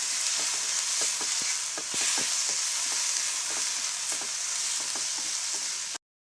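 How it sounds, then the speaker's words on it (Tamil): Garlic and tamarind sautéing in a pan for urad dal chutney, a steady broad sizzle with light stirring scrapes scattered throughout, close and continuous, with no voices. "இதையும் சேர்த்து நல்லா வதக்கிக்கலாம்."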